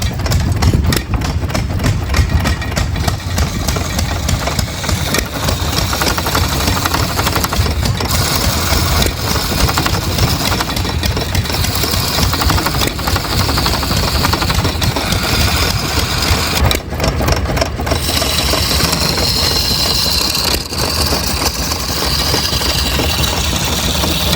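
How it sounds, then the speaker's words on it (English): An antique tractor engine runs steadily and loudly at an outdoor hit-and-miss engine and tractor show, with a continuous dense rumble that barely wavers throughout. "He's trying to get his tractor running."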